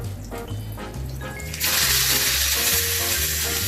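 A steak hits a hot cast iron skillet partway through, setting off a loud, steady broadband sizzle that fills the rest of the clip after quieter kitchen clatter and low hum.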